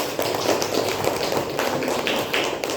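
Applause from a classroom audience after a discussion group finishes presenting: a steady, dense patter of many hands clapping at once, moderately close, sustained for a few seconds with no voices over it.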